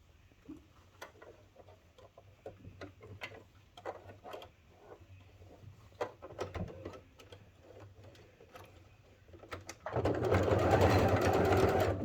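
A sewing machine stitches a fabric sling bag in quick, close bursts of needle clatter with short pauses between runs, then a sudden louder, denser whirring stretch near the end.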